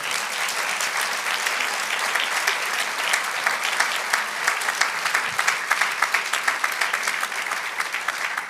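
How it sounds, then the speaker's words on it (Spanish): A church congregation bursts into sustained applause, a loud, dense crowd of hands clapping steadily throughout, growing slightly crisper toward the end. "Dele un aplauso al Señor."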